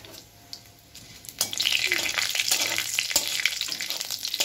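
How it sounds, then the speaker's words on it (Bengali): Nigella seeds, a small torn bay leaf and a dry red chilli hit hot oil with a sudden sharp sizzle that swells and stays loud and crackling, after a quieter opening with a few light clinks. "আমি দিয়ে নেব একটু কালো জিরে ফোড়ন। এরই সঙ্গে দিচ্ছি একটা তেজপাতাকে একটু ছোট্ট করে নিয়েছি, আর দিয়ে দিচ্ছি একটা শুকনো লঙ্কা।"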